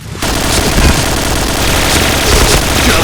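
Rapid, loud automatic gunfire rattles continuously for a few seconds in the shooter game Point Blank, bursts packed tightly together without pause.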